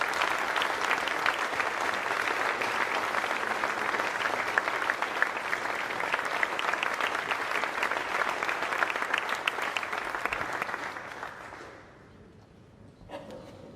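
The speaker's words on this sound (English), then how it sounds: "have another round of applause for our panelists" Sustained audience applause for panelists at a live discussion between MPs and US lawmakers on a US-UK tech partnership. It stays steady and full for about eleven seconds, then tapers off into near quiet, with a faint stir near the end.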